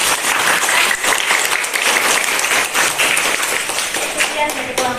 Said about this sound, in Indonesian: Yuk kita beri aplaus.